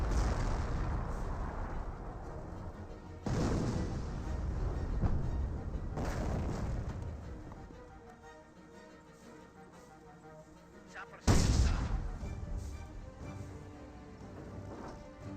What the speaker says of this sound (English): Another 25 pounder being employed on the field by the Royal Artillery player.